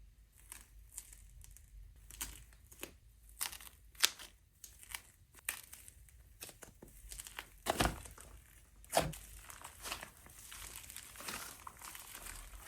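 Crunchy butter slime being squeezed and handled up close, giving a steady run of soft crinkling crackles and sharper snapping pops spread irregularly throughout.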